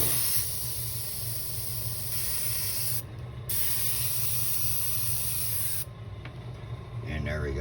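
A paint spray gun loaded with slightly thinned paint sprays in a loud, continuous close hiss, broken by two short pauses where the spray cuts out.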